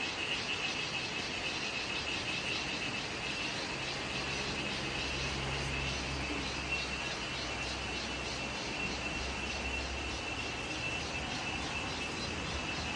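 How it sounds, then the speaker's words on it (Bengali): Several crickets chirp together in the wooded Munnar hills, a steady high pulsing trill that continues throughout, joined by a low distant drone at moderate volume. "ঝিঝি পোকার ডাকও শোনা যাচ্ছে, একটা নয় বেশ কয়েকটা।"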